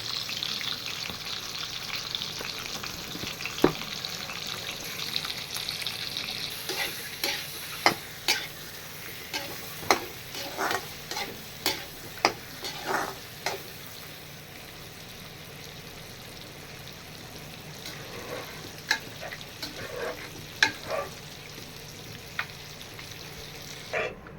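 A pan of thick masala sauce for egg biryani bubbling and sizzling steadily, with scattered pops and spoon stirring noises, close and fairly soft, no voices.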